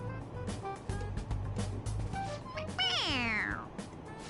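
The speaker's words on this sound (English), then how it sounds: "It meows when you press on its head." A stuffed toy cat in Persona 5 lets out a meow when pressed on the head, a single drawn-out falling meow after a stretch of clicky game sounds, moderately loud and clear.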